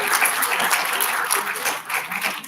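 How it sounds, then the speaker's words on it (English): Audience applauding at a spring university graduation ceremony, brisk crowded clapping from many people, loud and continuous with slight swells and dips. "I would like to ask the audience to cheer them with applause."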